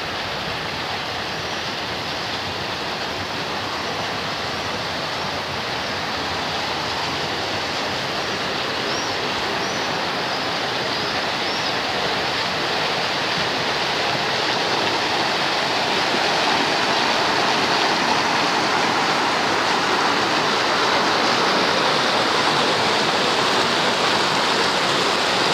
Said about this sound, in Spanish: El sonido del agua, como siempre, relaja mucho.